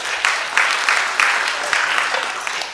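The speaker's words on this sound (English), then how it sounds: "Let's clap for the panelists, please." Audience applause for the panelists at a conference launching a regional food crises report, a loud continuous wash of many hands clapping in a hall, with a faint voice underneath.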